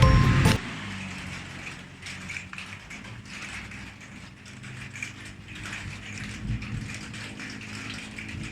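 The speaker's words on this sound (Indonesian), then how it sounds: "Teman-teman dengar nggak sih bunyi rintik-rintik gitu? Nah, ini menandakan bahwa ini lagi hujan." Steady rain falls with a dense patter of raindrops, a continuous close hiss dotted with small ticks and taps and no voices.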